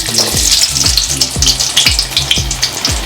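Garlic frying in hot oil in a pan, a loud close sizzle with repeated rhythmic scraping strokes of a spoon stirring it, with no voices.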